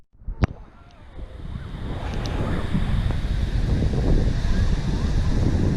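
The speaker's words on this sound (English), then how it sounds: "Good day at the beach, New Smyrna." Ocean surf and strong wind at New Smyrna beach, the waves building into a loud, steady roar while gusts buffet the microphone; a sharp click sounds near the start.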